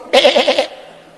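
Sheep bleat in a quick wavering run of about five pulses lasting half a second, loud and close, then a faint tail of background.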